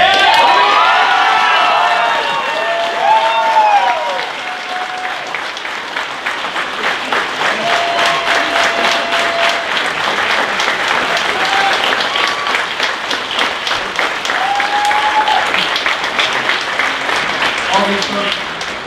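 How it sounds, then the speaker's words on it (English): At a Dale City Volunteer Fire Department swearing-in and awards ceremony, the crowd bursts into loud sustained applause with cheers and whoops, while a voice sounds over the clapping at the start. "Deserve a great round of applause"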